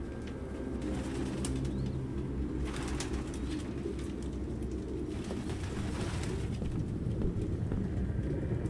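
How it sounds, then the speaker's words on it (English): Pigeons coo and rustle nearby in an indoor scene from the video game Detroit: Become Human, a steady layered cooing with occasional wing flutters over low background hum. "No human could live with all these fucking pigeons"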